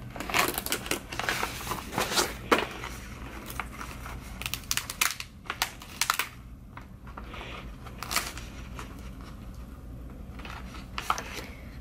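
A weeding tool lifts thick cut Chemica leather HTV vinyl after cutting on a Silhouette CAMEO, producing close, irregular scratchy clicks and peeling crackles of moderate loudness, with no speech.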